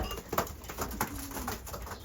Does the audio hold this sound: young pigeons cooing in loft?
yes